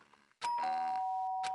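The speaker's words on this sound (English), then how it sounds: "did I hear the doorbell?" A doorbell in Danganronpa chimes loudly and clearly in a two-tone ding-dong, with a ringing tail and a second hit at the very end, after a brief quiet moment.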